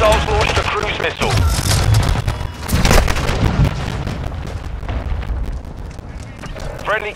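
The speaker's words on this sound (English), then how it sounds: "Hostiles launched a cruise missile." Cruise missile strikes in Call of Duty MW2 gameplay land as a series of loud, close booming explosions with rumbling debris, mixed with scattered gunfire over roughly seven seconds.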